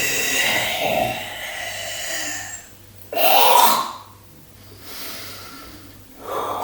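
Breath during a guided body exercise session, with audible, airy inhales and exhales repeating over several seconds and one louder, sharper breath near the middle, close and unaccompanied by talk.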